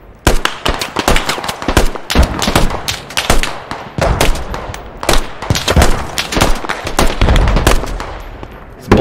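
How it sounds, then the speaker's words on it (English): Rapid automatic gunfire from a rooftop firefight in a multiplayer video game shooter, dense bursts of shots crackling close and loud almost without pause. "they're shooting at us"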